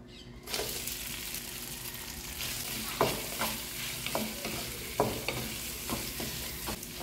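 Shrimp shells dropped into a big pot and frying, a sizzle rising abruptly and holding steady while a utensil stirs and scrapes in scattered knocks, close and moderately loud, no speech.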